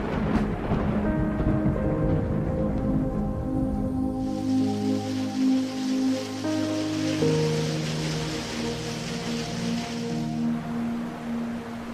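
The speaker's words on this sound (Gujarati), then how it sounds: "સવારથી જ વરસાદ વરસી રહ્યો છે" Rain falls over the Gir forest with rolling thunder, a low rumbling swell running beneath a continuous hiss of rainfall that grows brighter and denser midway, loud and close throughout.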